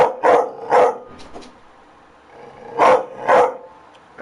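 A dog barks in two spaced pairs of loud, close woofs, with a quiet pause between the pairs and no talking.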